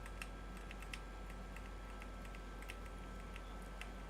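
Fingers tap keys on a computer keyboard while driving a racing sim, faint irregular clicks scattered over a low steady hum, with no talking.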